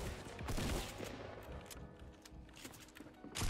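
A pump shotgun fires repeatedly during a Fortnite solo-versus-squads match, a dense, fairly loud run of blasts and impacts heard over game ambience, with no speech.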